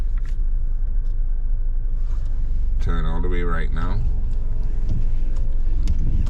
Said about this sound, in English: So put the car in reverse.